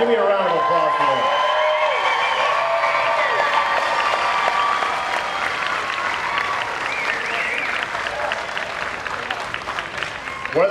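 Outdoor crowd at a Virginia Beach Super Hornet air show applauds the flight team's support crew, steady clapping mixed with overlapping voices and tonal, whistle-like sounds running throughout.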